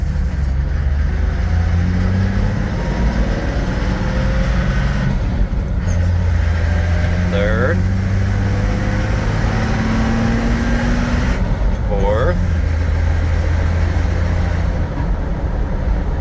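A 1978 Toyota Land Cruiser pulls away in second gear and keeps driving, its engine a steady, loud low drone with brief high hisses and faint squeaks riding over it.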